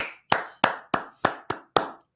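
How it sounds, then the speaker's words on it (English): Seven sharp single hand claps in a studio, spaced evenly and close to the microphone, each crisp with a short decay and silence between. "Clap."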